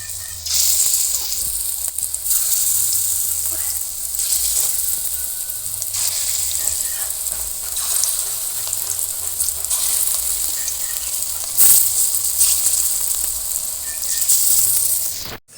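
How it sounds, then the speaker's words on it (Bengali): Coriander leaf fritters shallow-frying in a small amount of oil make a continuous, close, bright sizzling hiss with small pops and crackles that holds steady throughout, with no talk over it. "এরকম কম তেলেও খুব সুন্দর ভাজা হবে"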